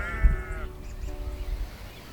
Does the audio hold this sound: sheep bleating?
yes